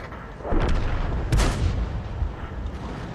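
A Grille self-propelled artillery gun fires in World of Tanks, a single heavy boom with a sharp crack followed by a rumbling tail, loud and close against continuous game ambience.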